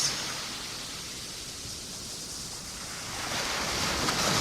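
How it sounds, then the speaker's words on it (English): Ocean waves wash along the shore in a steady broadband roar, swelling slightly toward the end, with no voices over them. "Stepping forward in the waves."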